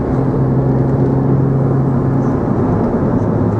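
Cabin view of a 2002 Renault Clio V6 cruising in top gear, a loud steady engine drone with low rumble and road noise, unchanging throughout.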